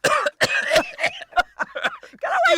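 A person coughs several times in short, harsh bursts with throat-clearing sounds, close and fairly loud.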